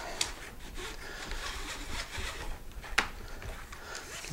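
A Bessey strap clamp being wound up by cranking its handle, giving a faint, continuous rubbing and ratcheting whir with a couple of brief sharper clicks, close by and quiet.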